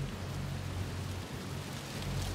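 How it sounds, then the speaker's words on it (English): Rain in the video game Kingdom falls as a steady, soft hiss of broadband noise with a low rumble underneath, continuous and fairly quiet throughout. "It's hard to tell when it's raining"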